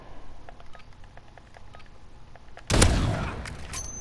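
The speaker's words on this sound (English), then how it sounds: "Wow, I literally am shooting" Gunfire in Call of Duty Modern Warfare: after a few seconds of faint, quiet ticking, one loud, sharp blast bursts out near the end and fades quickly.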